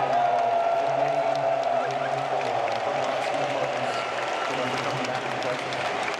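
A crowd applauds inside a large Counter-Strike major esports arena, with steady dense clapping and a faint rumble of voices that fades slightly over several seconds while someone talks.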